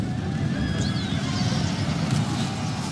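Cavalry horses charge across a Medieval II: Total War battlefield set in the Italian Wars, with a dense drumming of hooves beneath high, wavering neighs and whinnies that carry over the steady roar of the fight, and no speech.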